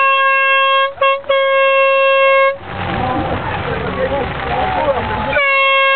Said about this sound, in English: We've got an air horn.